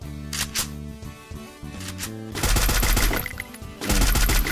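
Gunfire in a video game, sharp shots early followed by loud sustained automatic bursts rattling near and heavy, laid over a tonal music bed.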